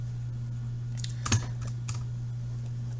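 A few quick keystrokes tap on a computer keyboard, a short close cluster of clicks over a steady low electrical hum.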